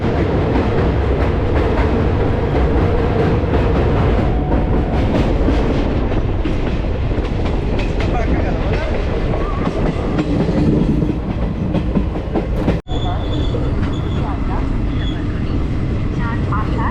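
Loud, steady rumble and rattle of a moving passenger train packed with holiday travellers arriving at Farakka, continuous throughout, with voices talking over it and a sharp knock near the end.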